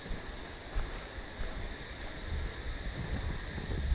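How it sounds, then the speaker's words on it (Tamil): Strong wind gusting around a French castle, a steady broad rush with low rumbling buffets against the microphone, no talking. "கொஞ்சம் காற்று சூப்பராக அடிக்குது கைஸ். உங்களுக்கு சவுண்டு கேட்கணும்னு நினைக்கிறேன்."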